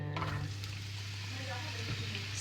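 Onion and spinach fry in a pan for a Turkish burek filling, giving a steady, close sizzle with a low constant hum underneath and occasional stirring clicks, no voices.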